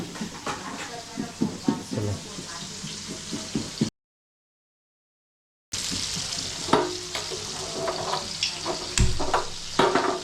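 Vadas sizzling and crackling in hot oil, with stirring clatter and a brief silent gap in the middle; voices come and go underneath.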